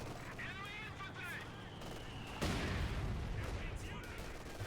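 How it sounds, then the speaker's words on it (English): An artillery barrage in a strategy video game breaks in as a sudden loud, sustained rumble of shelling after a stretch of quieter battle noise, with a voice talking over the first half. "The barrage."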